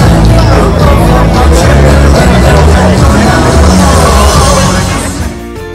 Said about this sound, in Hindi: और देखो भीड़